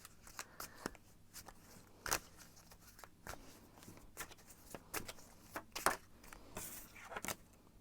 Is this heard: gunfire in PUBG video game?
no